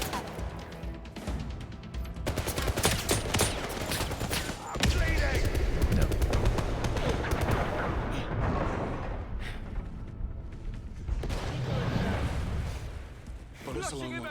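Dense gunfire from the video game 007 First Light, sustained bursts and volleys layered with crashes and impacts, loud and continuous, with game voices and music mixed underneath.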